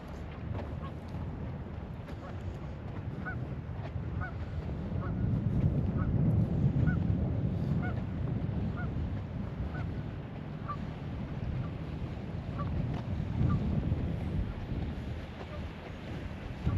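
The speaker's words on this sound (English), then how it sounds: "You see all the geese out in the field, and they're hanging out in the ponds" Geese honk repeatedly in the distance over steady wind and low rumbling noise in a flooded, irrigated farm field, the calls coming in a loose, regular series.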